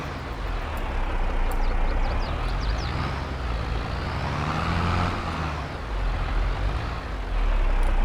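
A truck in Farming Simulator 22 drags a heavy load along the ground, making a loud, continuous engine drone and scraping rumble that rises and falls and carries on throughout without any voices.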